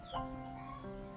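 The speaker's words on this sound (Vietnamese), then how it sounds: "Có con cưỡng kìa" A myna bird calls once, loud and close, in a short harsh squawk, then gives way to quieter tonal whistling from birds in the background.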